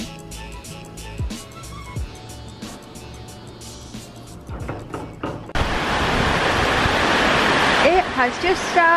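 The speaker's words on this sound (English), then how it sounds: "It's just started pouring down." Heavy rain suddenly begins pouring down in Penang, Malaysia: a quieter street scene with scattered sounds gives way midway to a loud, dense, continuous rush of rainfall, with brief voices near the end.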